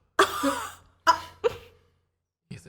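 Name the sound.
voice imitating gagging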